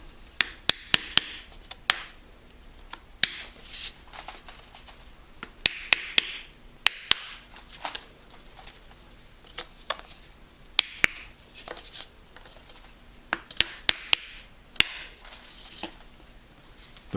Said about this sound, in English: sometimes you want to hit your rush with your hammer a little bit